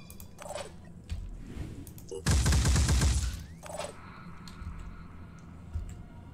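Gunfire in Phoenix Point: a loud, rapid burst of shots rings out for about a second amid quieter game sounds, with a few fainter sharp hits before and after.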